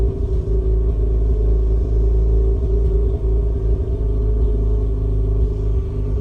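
A 2004 Mazda RX-8 engine idles roughly at about 1,000 RPM, a loud, close, steady low rumble that wavers and sags as if about to stall, with no voices.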